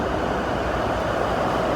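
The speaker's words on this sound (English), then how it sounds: "The air conditioner." Car air conditioner blowing hard inside a parked car on a hot day, a steady, loud broadband whoosh of airflow with no breaks, close up and without talk.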